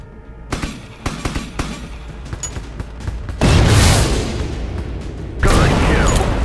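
A drone fires in Drone Shadow Strike 3, a series of sharp gunshots crackling in spaced bursts, then two heavy explosive blasts that roar loudly and linger.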